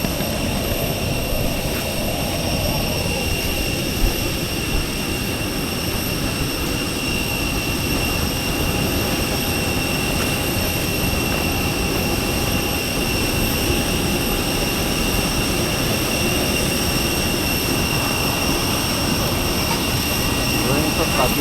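Jet airliner engines drone steadily through the cabin during takeoff, a loud, constant broadband roar with a high whine that holds unchanged for over twenty seconds.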